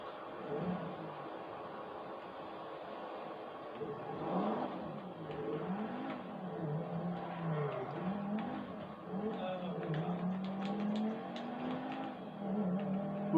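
Car engine in the video game GTA 5, a mid-pitched motor whirring and revving up and down steadily as the car drives, with faint background sounds.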